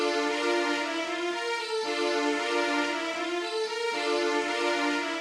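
A compressed string section sustains stacked chords and single lines, forming a dense, even wall of bowed tone with gentle changes every couple of seconds and no voices.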